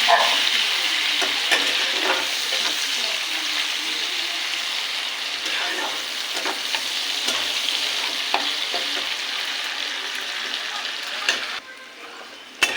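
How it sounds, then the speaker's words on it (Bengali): Chopped onions fry and get stirred in hot oil with bay leaf and cumin for a country chicken curry, a steady loud sizzle with scraping spatula strokes throughout, briefly easing near the end. "এবার দিয়ে দেবো পেঁয়াজ কুচি তোমার জামা কাপড়গুলো তোলো পেঁয়াজটাকে একটু ভেজে নেবো"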